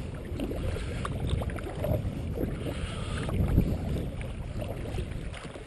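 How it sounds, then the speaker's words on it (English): A Sea Eagle FastTrack 385 kayak is paddled against wind and tide, with steady water splashing and sloshing under constant wind noise, no voices. "The ability of the FastTrack to paddle against the wind and against the tide is one of its great features. I'm now paddling against both."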